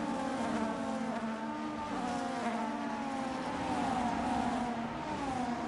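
F1 race cars in a Brazil race of a racing video game, a steady, dense stream of layered high engine whines that rise and fall as the cars pull away together, continuous and fairly loud with no talking.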